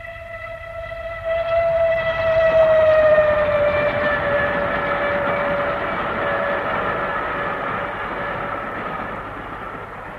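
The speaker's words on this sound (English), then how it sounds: "Bad enough to have the trains banging under one's window all night long." A railway train passes close beneath a house window at night, a steady rumbling roll of wheels under a long sustained whistle-like tone that swells and then slowly fades over about ten seconds.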